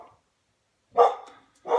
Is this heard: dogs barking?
yes